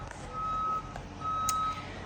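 A front loader sounds two long, steady reversing beeps outdoors while putting sand out on a beach, under a low background rumble.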